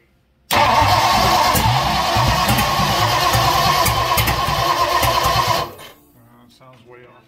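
A 1958 Ford Thunderbird engine with adjusted timing cranks and catches, running roughly and loudly at close range for about five seconds before dropping off, followed by quieter background sound.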